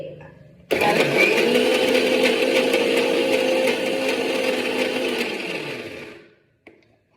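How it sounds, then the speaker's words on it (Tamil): A kitchen mixer grinder whirs loudly and steadily for about five seconds, coarsely grinding onion, salt, fennel, cumin, chana dal and curry leaves, then winds down, followed by a brief clunk. "வெங்காயம், உப்பு, சோம்பு, சீரகங்க, இது கூட கொஞ்சம் கடலைப்பருப்பு கருவேப்பிலை போட்டு மிக்சியில் இப்படி"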